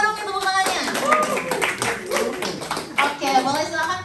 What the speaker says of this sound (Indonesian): Boleh dong kita tepuk tangannya